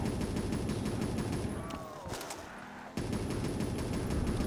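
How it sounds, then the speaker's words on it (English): Automatic weapon fire in a Call of Duty custom zombies boss fight at a castle map, steady rapid bursts that drop out briefly midway, then resume loud and continuous. "I keep shooting."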